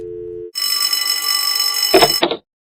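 Cartoon telephone ringing in a continuous electric bell trill for nearly two seconds, loud and alone, ending just before a voice answers.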